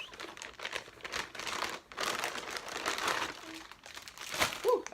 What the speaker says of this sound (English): So I'm gonna open the bag.